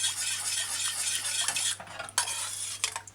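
Steady stirring in a small saucepan of sweet and sour sauce simmering on low heat, with continuous scraping and soft clinks of a utensil against the pan, close and fairly loud, no talk.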